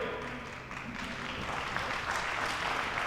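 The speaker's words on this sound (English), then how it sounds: "Please give a big round of applause for the medal winners who are walking towards the podium." Crowd applause for medal winners at an Asian airgun shooting championship, a dense, steady wash of clapping from many hands in a large hall.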